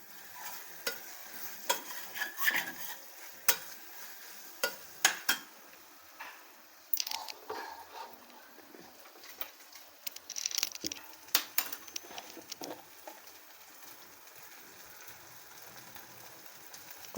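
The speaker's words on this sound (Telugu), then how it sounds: "ఈ కరివేపాకు వేసుకున్నాక కొద్దిగా 2 మినిట్స్ అట్లా నూనెలో వేగాలి." Curry leaves frying in hot oil for a brinjal mutton curry, a soft continuous sizzle broken by quick popping spatters and a few utensil stirs, fairly close and alone.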